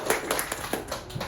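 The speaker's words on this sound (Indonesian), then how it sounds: "Beri tepuk tangan lagi" Classroom clapping in an Indonesian school lesson, a short burst of a few hands clapping in loose, uneven rhythm, close by and brief.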